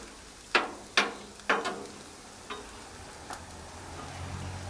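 Bacon frying on a Blackstone griddle, heard as a low, steady sizzle broken by a few sharp pops and spatters near the start, with fainter crackles trailing off.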